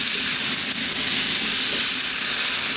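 Bacon and chicken pieces frying over fairly high heat in a pan, a loud, continuous close-up sizzle and crackle with no pauses.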